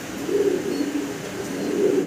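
A single large yellow Stasser pigeon coos in a low, throaty rolling call, two drawn-out coos close by with a short pause between, no talking.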